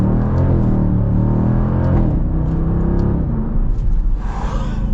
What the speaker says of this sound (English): But let's get our full-blown acceleration here now.